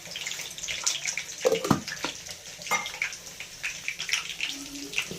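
A little water is poured over ginger, cumin, turmeric and chilli powder to make a spice paste, a close splashing trickle with clattering from the vessel, moderately loud.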